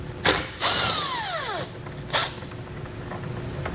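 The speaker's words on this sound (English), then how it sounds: "we'll use a T15 Torx to remove the 2 fasteners" A cordless driver with a T15 Torx bit backs out fasteners on a 2021 Chevrolet during a wiring kit install, with short whirring bursts whose pitch sweeps as the motor spins up and down, and pauses between.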